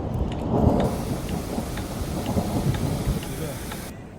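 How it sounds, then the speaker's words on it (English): Heavy rain pours steadily and loudly, with low rolling thunder rumbling beneath it, heard from inside a car with the heater running, in southern Afghanistan. "the loud noises of the thunder can be heard and the rain is pouring furiously"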